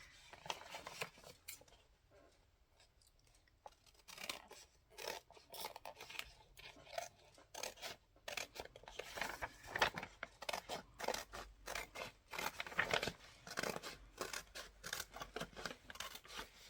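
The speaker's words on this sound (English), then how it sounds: "Right, so now I can cut that there." Scissors snip paper for a loaded envelope pocket journal page, a run of crisp close cuts and crinkles that grows busier and more rhythmic after a few quiet seconds.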